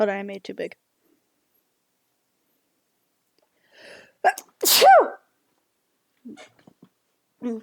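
A single loud, close sneeze bursts out in the middle of indoor conversation, with short stretches of speech before and after it.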